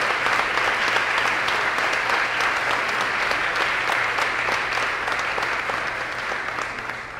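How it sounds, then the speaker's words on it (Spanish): Sustained audience applause at an anniversary celebration of a journalism team, a dense, steady wash of many hands clapping close and loud, gradually easing slightly toward the end with no talk over it. "un aplauso para Carlos Fernando Chamorro y su equipo en este aniversario"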